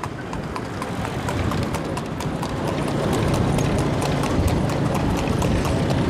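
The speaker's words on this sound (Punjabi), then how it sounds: "ਇਹ ਦੇਖੋ, ਮੂੰਹ ਜ਼ੋਰ ਘੋੜੀ ਬਹੁਤ ਹੈਗੀ ਹੈ।" Hooves of a mare clip-clopping steadily on hard ground in a village, a rapid even beat of close, crisp knocks over constant background noise.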